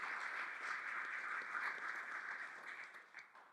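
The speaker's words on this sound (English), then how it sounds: "give yourselves a round of applause" Audience applause at a university welcome event marking Colorado's next Hispanic Serving Institution, a steady, moderately distant wash of clapping sustained throughout and tapering slightly near the end.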